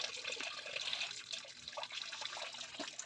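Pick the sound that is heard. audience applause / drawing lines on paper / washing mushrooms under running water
washing mushrooms under running water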